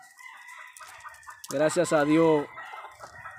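A rooster, a son of a fighting cock, crows once loudly and close by in the middle of the clip, with faint background noise and a brief voice before and after.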